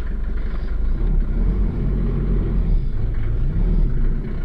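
A steady low rumble of a Mercedes 190 2.2 diesel with a five-speed manual on the move, with road and engine noise droning evenly throughout.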